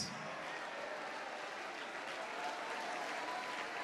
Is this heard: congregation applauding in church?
yes